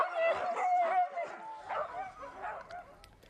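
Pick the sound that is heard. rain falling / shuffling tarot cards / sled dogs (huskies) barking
sled dogs (huskies) barking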